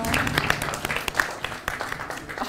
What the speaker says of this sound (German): Kleiner Applaus wäre ja vielleicht gar ganz nicht schlecht so,